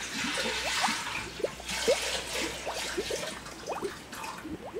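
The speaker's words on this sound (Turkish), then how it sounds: "Yarıya kadar su dökeceğim." Water pours steadily into a cooking pot being filled halfway for aşure, a continuous close trickling and splashing stream with scattered droplet plinks and no voices.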